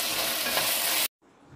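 Onion with ginger-garlic paste fries in hot oil, a loud steady sizzle for about a second before it cuts off abruptly, then a quieter low sizzle resumes.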